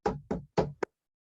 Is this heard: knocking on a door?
yes